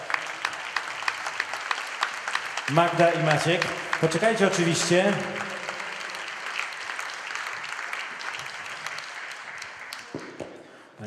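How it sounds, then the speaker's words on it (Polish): An audience bursts into applause at a concert event, a swell of clapping that rises under a presenter's spoken Polish introduction, then tapers off while he keeps talking. "Duże brawa."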